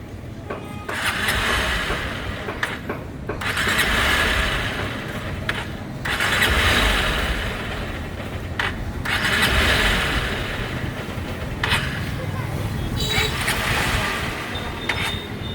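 A Honda SP 160 motorcycle with a fault that makes it stall repeatedly while running, its engine churning in loud uneven bursts that surge and drop with brief gaps, close by, with no speech.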